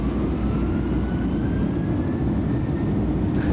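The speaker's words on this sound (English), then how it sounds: "the engines are now spinning up and they'll stabilise" The jet engines of a Boeing 737 simulator roar steadily during takeoff as a loud, continuous low rumble with a faint rising whine on top.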